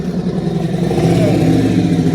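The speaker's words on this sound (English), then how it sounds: "I hear an engine." A motorcycle engine revs up close, its rough throbbing rising in pitch over two seconds.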